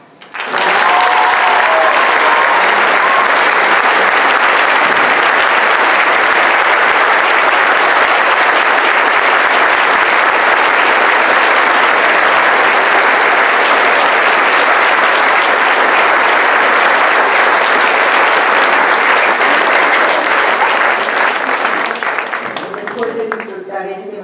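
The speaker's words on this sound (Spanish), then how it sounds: "les pido nuevamente un aplauso para esta maravillosa orquesta" A concert audience applauds an orchestra at an evangelical music event, giving loud, dense, sustained clapping that runs unbroken for over twenty seconds before thinning slightly at the end.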